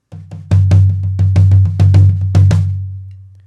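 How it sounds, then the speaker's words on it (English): Floor tom of a drum kit struck repeatedly, about a dozen booming low hits in an uneven rhythm with a resonant ringing tail, played alone and close. "the third tom, also known as floor tom and low tom."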